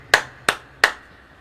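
Three sharp claps at an even pace, close and crisp with quick decay, during a church service in a quiet room with no talking.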